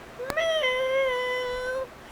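A person imitates a cat's meow with one drawn-out, wavering mew of about a second and a half. It is clear and close, with no other sounds.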